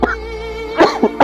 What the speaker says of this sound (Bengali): কি গো, আবার কাশিটা কি বাড়লো?